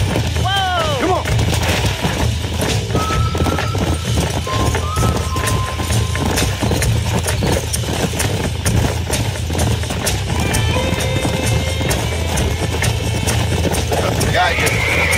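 A horse in the video game Red Dead Redemption gallops with rapid clip-clop hoofbeats and whinnies loudly near the start, amid a busy, loud game soundtrack with gunfire-like bangs and a voice talking over it.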